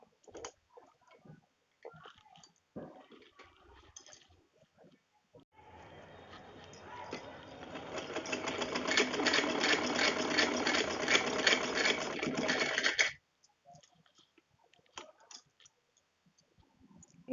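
A sewing machine stitches the fabric of a homemade kaccha undergarment, a steady whirring run of about seven seconds with rapid needle ticks, framed by quieter handling clicks and brief talk before and after.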